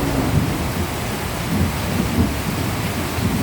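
Heavy afternoon rain pours over a backyard farm in Cagayan with deep rolling thunder, a loud constant downpour carrying low rumbles throughout.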